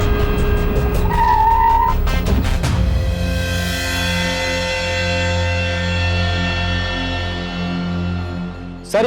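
A police car pulls away fast with tires skidding, a loud screech up front followed by a sustained revving engine that holds steady and fades slightly, close and loud with no talking.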